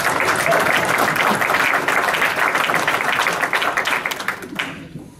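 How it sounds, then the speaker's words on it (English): Sustained audience applause fills a hall during a city's State of the City address, dense and steady clapping that thins out and fades near the end. "You can clap."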